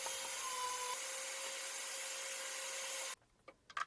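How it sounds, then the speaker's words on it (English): Steady broadband power sanding on wooden shelf pieces, a continuous even whir with a faint tonal hum that runs about three seconds, then cuts off, leaving a few light knocks and taps. "do a little sanding and knock off all the sharp edges"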